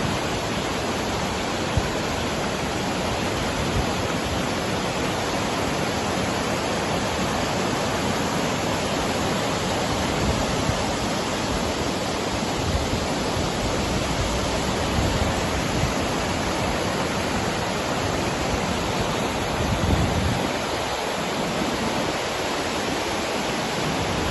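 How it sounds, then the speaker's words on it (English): Steady, dense roar of a waterfall, a continuous broadband rush of falling water with no breaks, close and fairly loud throughout. "you'll just hear the waterfall"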